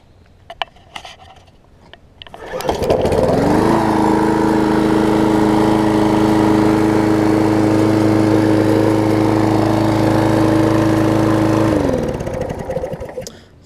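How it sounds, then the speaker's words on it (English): A Murray self-propelled lawn mower engine pulled to a start, catching with a rising roar and then running at a loud, steady, buzzing pace before cutting off and winding down, with faint handling noises before and after. "as you can see, the engine runs great on it"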